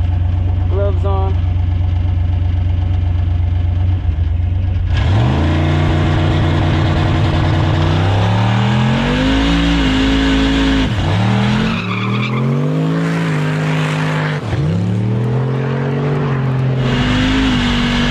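Turbo LS-swapped Nissan car revving for a burnout on cold, wet street asphalt, loud engine that idles and then repeatedly surges and falls back, close and dominant, with talk heard over it.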